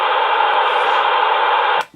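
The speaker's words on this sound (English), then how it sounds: "the long press of that button opens the squelch up." A Retevis RM22 waterproof floating VHF marine handheld with its squelch held open gives a loud, steady rush of static hiss that cuts off abruptly near the end, with no speech.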